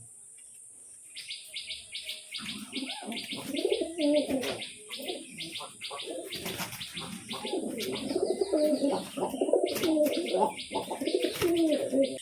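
Soft pigeon coos repeat steadily beneath constant high cricket chirping and scattered bird tweets, with a brief spoken remark partway through.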